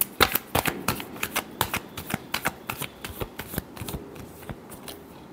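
A deck of tarot cards shuffled by hand, heard as a quick run of crisp, papery riffles and slaps at an uneven rhythm, close and fairly quiet with no talking.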